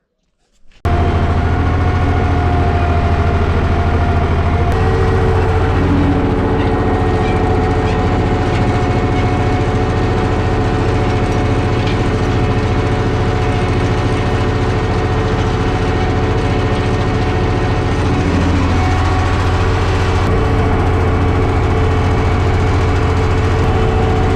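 Ursus C-330 farm tractor engine idling nearby, starting abruptly and then holding a steady, loud, low rumbling drone for over twenty seconds with no talk.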